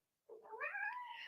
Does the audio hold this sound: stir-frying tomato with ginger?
no